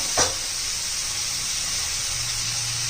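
Softened ridge gourd fries in oil in a pan, giving a steady, even sizzling hiss that runs throughout with one brief louder crackle near the start and no talking.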